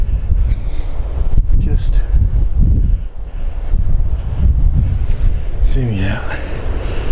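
Strong wind on a beach buffets the microphone in a loud, continuous rumble that swells and dips, while someone talks under the roar.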